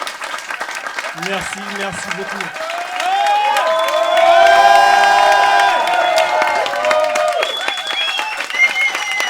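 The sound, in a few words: wedding guests applauding and cheering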